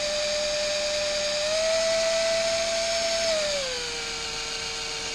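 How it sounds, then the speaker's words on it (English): A degassing wand on a drill spins steadily in a carboy of apricot mead, stirring in bentonite; a loud continuous motor whine that holds one pitch, then drops lower near the end, with no talk. "I'm just stirring up that bentonite in here"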